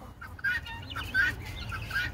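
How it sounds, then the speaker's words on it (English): Backyard chickens clucking close by, several short bursts of calls in quick succession, alone with no talk. "All these chickens."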